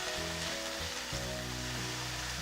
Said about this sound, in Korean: 노릇노릇하게 양파를 볶아볼게요